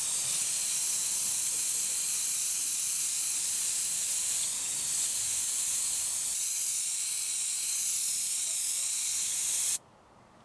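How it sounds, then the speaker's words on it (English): Airbrush spraying white acrylic paint onto a Triumph Bonneville T140 chain guard, a steady loud hiss held for about ten seconds before cutting off abruptly. "I'm now going to spray some white acrylic over it"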